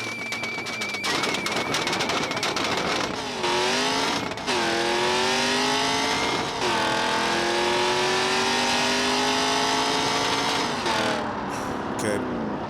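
A car engine in the BeamNG drag racing video game revs repeatedly, its pitch sweeping up and holding in loud, close bursts, with a rapid rattling stutter at the start and a voice talking over it.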